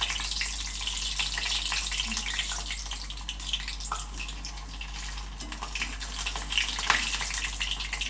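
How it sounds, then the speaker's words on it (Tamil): A rava (semolina) vada frying in hot oil gives a steady, dense sizzle and bubbling crackle that holds evenly throughout, close and fairly loud with no talking. "நான் முதலாக ஒரு வடையை போட்டு பொறிச்சு பார்ப்போம்"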